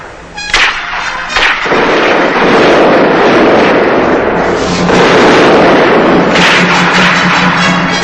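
A 1969 war film battle: sharp gunfire cracks and blasts burst out in the first seconds, then give way to a loud, continuous roar of explosions and artillery that fills the scene, with no speech.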